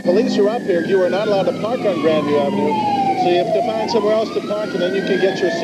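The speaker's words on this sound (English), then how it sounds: "You can hear the sirens going by." A police siren wails loudly and passes by, its pitch sweeping down and back up, while a person speaks over it throughout, amid a crowd at an overlook during the Three Rivers Stadium implosion in Pittsburgh, 2001.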